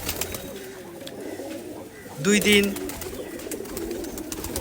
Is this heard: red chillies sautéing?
no